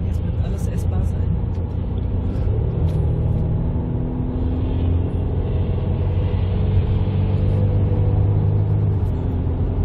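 Car cruising on the Autobahn A5 in November, a steady close engine and road rumble with wind noise throughout and no speech.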